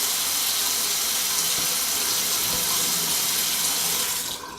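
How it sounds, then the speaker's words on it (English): Tap water running steadily into a sink to rinse a shaving razor, a loud continuous close splashing rush that cuts off just at the end. "Do a little rinse of some water."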